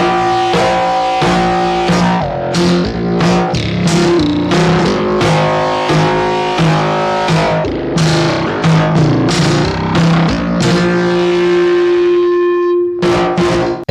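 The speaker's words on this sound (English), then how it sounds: "Here's an example where I hit a drum and play the pads at the same time" A drum hit and keyboard pads run through an Audrey II feedback synth, giving a dense, distorted wall of sustained tones with rhythmic struck transients throughout, loud and continuous before cutting off near the end.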